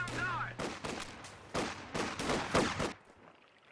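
Two rifles fire in a strategy video game, with several sharp bursts of shots in quick, uneven succession, close and punchy, before the fire stops and the sound trails off.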